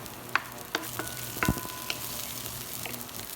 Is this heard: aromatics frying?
yes